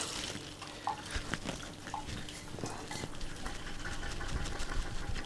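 Hot water poured out of a thermos after cooking potatoes in it, a steady close splashing and trickling stream that runs continuously with small drips and knocks, no talking.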